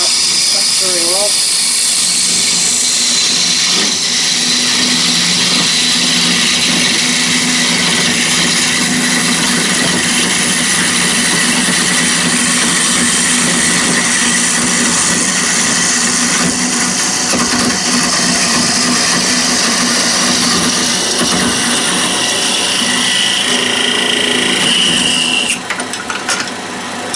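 A parting tool cuts into wood spinning on a lathe at about 1600 RPM, giving a loud, continuous scraping whir with a steady motor hum that runs nearly unbroken throughout.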